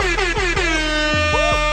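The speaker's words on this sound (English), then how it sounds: "I'll give myself some air horns." Air horn sound effect blasting in a rapid series of loud, brassy honks with sliding pitch, close and alone without talk.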